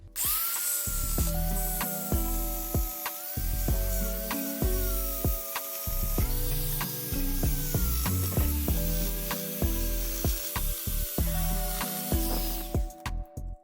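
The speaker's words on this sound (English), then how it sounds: "I'm going to be using a file sander" A file sander carves into a plastic controller cover, a loud whining tool that revs up and down in repeated bursts with gritty grinding as it bites the plastic, close and continuous, with no speech.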